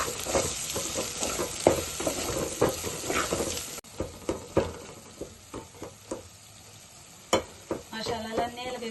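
Masala spices sizzling and frying in a pan for Telugu-style batani chaat, with steady crackle, a stirring spoon scraping and tapping the pan in irregular knocks, close and moderately loud.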